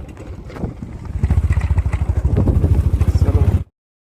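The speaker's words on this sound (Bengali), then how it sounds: "দেখতে পাচ্ছ মোটর সাইকেল টাইকেল চাপা নিয়ে আসছে" A motorcycle approaches on a rural road near Purulia, its close engine rising into a loud, rapid, pulsing putter before cutting off abruptly.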